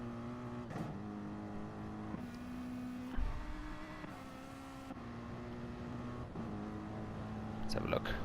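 A racing car engine in a video game race hums steadily with regular pitch shifts as gears change, fairly quiet, with a thump partway through and a rise in noise near the end.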